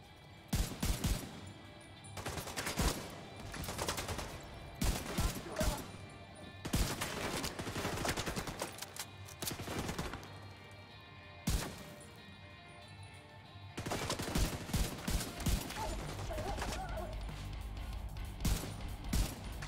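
Gunfire in the shooter The Division 2, with repeated bursts of sharp shots and rapid volleys coming in clusters with short pauses, loud and close throughout.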